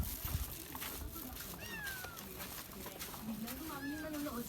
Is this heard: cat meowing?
yes